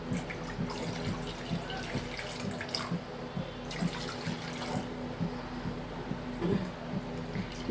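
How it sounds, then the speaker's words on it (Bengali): Water poured into a kadai pan set on a lit gas stove, a steady splashing, trickling stream close by with a faint burner hiss beneath. "বেশ খানিকটা জল আমি দিয়ে দিলাম কড়াতে"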